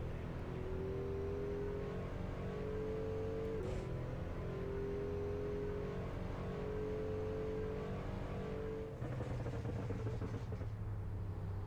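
AI-driven cars on city streets in the racing game Assetto Corsa, a steady engine drone with a rising whine and gear changes, constant and moderately loud, with another car passing near the end.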